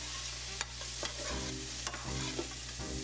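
Salted onions and celery are stirred as they sweat in a pot for leftover turkey soup, with a soft sizzle underneath and a few scraping strokes of the spoon, close and quiet with no talking.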